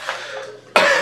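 One harsh cough, loud and close, from a person who developed a persistent cough after working long hours at the World Trade Center site, with a short catch of breath before the main burst.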